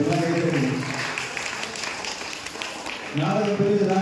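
An audience at a church cultural program applauds the children after their play, a moderate wash of clapping running throughout under a speaking voice heard at the start and end.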